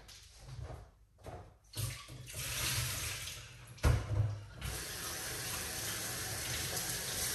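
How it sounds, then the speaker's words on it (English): Running tap water streams steadily over an apple being washed, with brief gaps and bursts at the start as the flow is interrupted, then a continuous close splashing rush. "So this is the apple. I need to wash it off."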